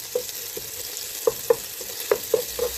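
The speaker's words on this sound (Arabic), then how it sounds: "هنزل عليها بمعلقه توم مفروم، هشوحها كده." Minced garlic sizzles in a little oil in an unwashed pot, a soft steady frying hiss broken by several sharp spoon scrapes and stirs.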